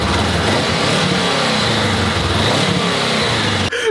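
A trail road motorcycle engine starts and runs loud and close, a dense steady rumble with revving, then cuts off abruptly near the end.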